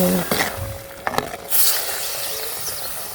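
Thick bean curry bubbling in a pot while a spoon scrapes and clinks against the metal, with a sizzling hiss, brief sharp knocks, and a softer boiling rush afterward.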